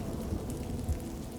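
Steady, heavy rain pours outside around a parking lot. It makes a dense, continuous wash of noise with low rumbling underneath, and no voices are heard.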